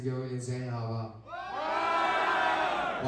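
At a live concert, the boys in the audience roar and cheer as a dense crowd, the noise swelling loudly after a brief lull and holding steady to the end.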